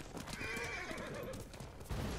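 A horse in the video game Ghost of Tsushima lets out a clear, high whinny that rises and falls. It sits over a busy in-game background with faint hoof clatter.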